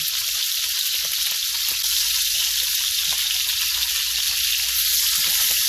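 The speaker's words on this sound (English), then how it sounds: "Let that sear up nice." Iguana meat searing in hot oil in a home kitchen, a dense, loud, unbroken sizzle with faint crackles and light stirring noises underneath, no talking.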